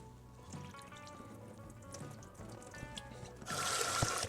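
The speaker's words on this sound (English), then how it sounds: "we got that milky water. We're gonna get rid of it." Milky rice-washing water poured out while rinsing rice for a new Japanese rice cooker, a soft close trickle that swells into a louder splashing pour near the end.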